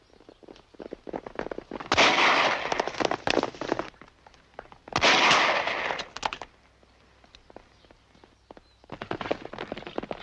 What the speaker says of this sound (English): Rifle fire.